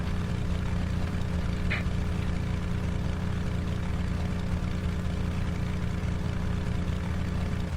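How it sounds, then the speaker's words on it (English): A propeller aircraft in the X-Plane flight simulator game drones loudly and continuously through its takeoff, the engine hum steady and close from start to finish. "let's turn around and do a takeoff in the opposite direction"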